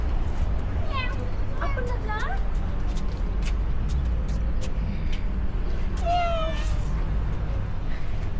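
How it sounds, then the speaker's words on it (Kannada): A cat meows several times nearby outdoors at night in Bahrain, in short rising calls: two early, then another later, over steady background hum and faint voices. "ನೋಡಿ ಇಲ್ಲಿ ಕ್ಯಾಟ್ ನೋಡಿ."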